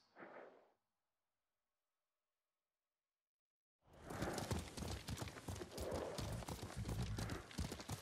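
A short burst, then silence, then rapid galloping hooves pounding loudly and continuously with a horse whinnying over them, close and intense, in the video game Ghost of Tsushima.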